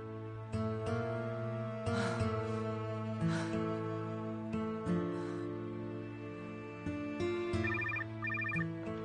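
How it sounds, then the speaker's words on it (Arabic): A telephone rings in repeated bursts with a clear electronic trill over a steady background of held musical tones in an indoor drama scene. "عاصم على التليفون."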